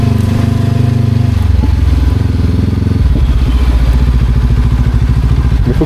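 Motorcycle ride in Bali, the engine loud and close with a steady throbbing drone that shifts pitch partway through as the gear changes, wind noise rushing underneath.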